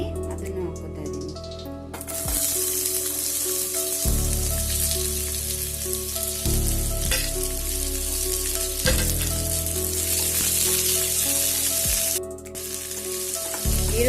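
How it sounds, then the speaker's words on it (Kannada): Two chopped onions frying in oil for a hyacinth bean masala curry, a steady close sizzle with occasional stirring scrapes, heard under background music. "ಇವಾಗ ಇಲ್ಲಿ ಇದೇ ಎಣ್ಣೆಗೆ 2 ಈರುಳ್ಳಿ ಕಟ್ ಮಾಡಿ ಅದನ್ನು ಹಾಕೋತಾ ಇದ್ದೀನಿ."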